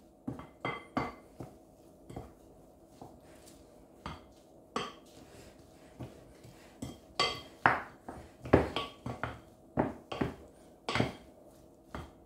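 Rice and vegetable ball ingredients are mixed in a bowl, giving irregular close clinks, taps and scrapes of a utensil against the bowl, sparse at first and then quicker. No one speaks.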